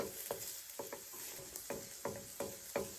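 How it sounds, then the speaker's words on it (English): Ingredients sizzling in a wok on a propane stove, stirred with a regular rhythm of close scraping strokes, about two per second, over a constant bright sizzle. "We just want to keep stirring them around and let them sweat out a little bit."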